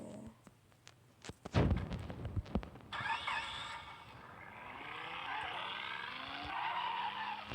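A car drifts and skids in a video game, with loud impacts near the start and then a sustained tire squeal and engine whine rising and falling through the rest.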